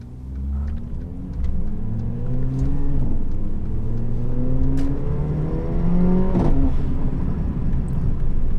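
A Mercedes CLA45 engine pulls hard through the gears while driving, its rising drone climbing in pitch, dropping at shifts and climbing again, loud and steady from inside the car.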